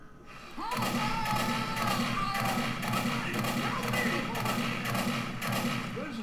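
Machine gun fire in the Left 4 Dead video game, a steady, dense stream of rapid shots rolling on continuously at a loud, even level after a brief quiet start.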